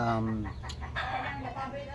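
A chicken clucks and crows briefly at close range, with someone talking over part of it.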